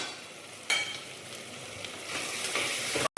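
Tomato rice stirred in a hot pan after cumin and turmeric powder go in, a steady soft sizzle with scraping spoon strokes and a couple of sharper clinks, close by and without talk.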